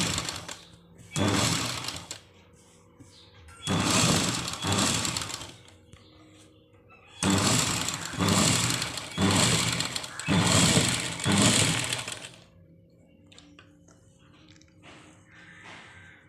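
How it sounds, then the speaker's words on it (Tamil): Sewing machine stitching a band onto a blouse, a topstitch run a quarter inch above the joined seam, with five loud sustained whirring bursts separated by short pauses and faint clicks between. "பட்டியை ஜாயின் பண்ணிவிட்டு அது மேலே 1/4 இன்ச்சு கேப்பில் ஒரு தையல் போட்டுவாங்க."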